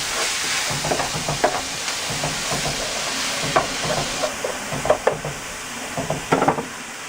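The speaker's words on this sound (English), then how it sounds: "As the vegetables are starting to cook a little bit" Peppers and onions frying in a pan, a continuous loud sizzle with scattered scraping and stirring clatters from a utensil, no voices.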